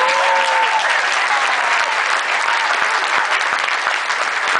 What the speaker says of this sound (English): How about a round of applause for Karen's dad?